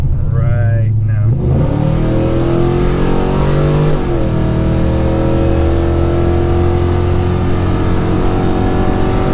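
A 2006 Chevy Silverado Intimidator SS engine revs hard and loud, its pitch climbing and dropping before it settles into a steady high drone as the truck accelerates, with a voice speaking briefly over it.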